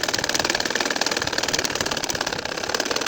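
An ordinary household sewing machine stitching a nakshi kantha quilt runs with a fast, steady mechanical chatter that pulses evenly and continuously, close up and loud.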